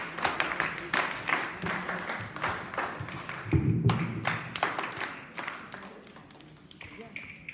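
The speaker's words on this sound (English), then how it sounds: "Special claps, go!" A group performs patterned rhythmic claps at a school Republic Day celebration, sharp beats in clustered sequences with short pauses, a voice briefly audible between them.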